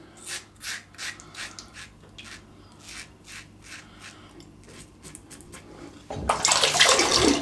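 A safety razor scrapes across a lathered face in a series of short, close, soft strokes, then a louder burst of rinsing water at the end.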